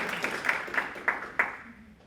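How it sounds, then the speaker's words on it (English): A town hall audience in Wilmington applauds briefly, a thin scattering of claps with a few sharper single hand claps standing out, fading within about two seconds. "Another round of applause."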